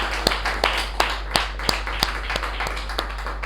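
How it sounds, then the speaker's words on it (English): Sparse, widely spaced claps from a small meeting audience after a speech, a dozen or so sharp isolated hits over a steady low hum, fairly faint. "Let's give her a special round of applause."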